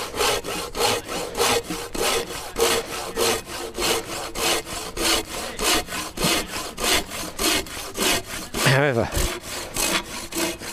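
Steady rhythmic rasping of a pull saw cutting through wood, rapid regular strokes throughout, with a brief spoken word near the end.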